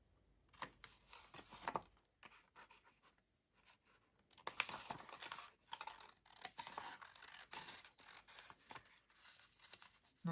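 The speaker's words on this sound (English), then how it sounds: "I'm just going to snip that off at an angle." Paper being snipped with scissors at an angle during a papercraft project making faux library pockets and cards: a series of quiet, crisp cuts and rustles, close by, with short pauses between bursts.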